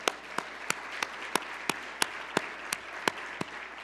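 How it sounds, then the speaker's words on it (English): A breakfast audience applauds to thank public servants: a steady wash of crowd clapping runs throughout, with sharp, evenly spaced louder claps punching through about three times a second. "I lead the round of applause in thanking them for their public service"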